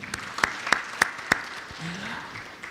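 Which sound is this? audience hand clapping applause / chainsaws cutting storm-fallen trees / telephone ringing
audience hand clapping applause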